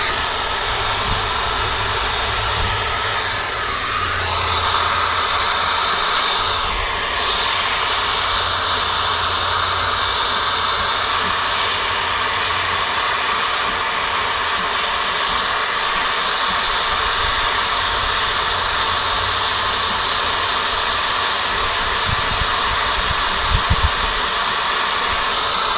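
A hair dryer runs steadily and loudly at close range, warming the emblem on a 2020 Carolina Skiff 21LS boat, a constant whooshing hum that never lets up.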